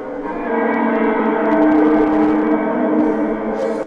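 Drippy Fingers effect from Sony's Neptune Thrum loop library, a dense droning, rumbling texture with sustained tonal layers and faint metallic chimes near the end, loud and steady without speech.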